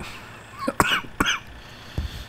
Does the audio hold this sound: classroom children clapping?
no